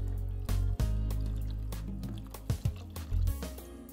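Water poured over meat cooking in a sauce, with short splashing and liquid bursts standing out over a steady low sizzle, close and moderately loud, with no talking.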